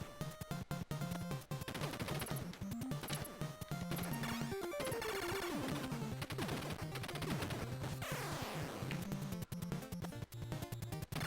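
Rapid chiptune machine-gun shots rattle in the NES game Contra, repeating quickly and steadily over the game's busy music and effects, with no voices.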